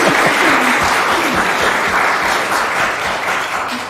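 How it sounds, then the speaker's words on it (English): A church congregation breaks into loud, close applause in the sanctuary, a dense and sustained clatter of many hands with a few low voices mixed in, easing slightly toward the end. "you can clap for that"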